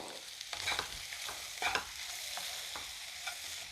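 Chopped tomato with a pinch of salt is stirred into frying spices in a pan, giving a soft steady sizzle broken by a few scraping stirs of a spoon, close up and without voices.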